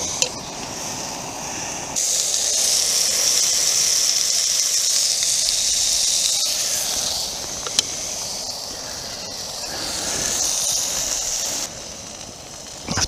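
Steady broad hiss from a gas burner turned up high during outdoor cooking, loud and continuous for most of the stretch before easing slightly near the end, with no talking.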